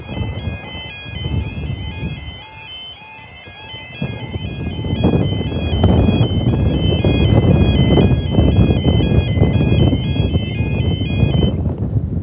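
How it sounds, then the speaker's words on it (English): A repeating electronic warning tone from a broken level crossing alarm at Craughwell, County Galway, chimes in a steady pattern throughout, over rumbling background noise that grows louder partway through. "Broken alarm."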